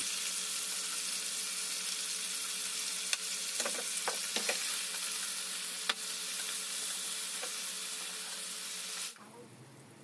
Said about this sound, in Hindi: अब आपने इसको अच्छे से फ्राई करना है और वक्तन फ़वक्तन आपने इसको उल्ट पलट करके ऊपर नीचे से अच्छे